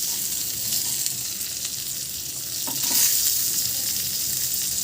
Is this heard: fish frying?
yes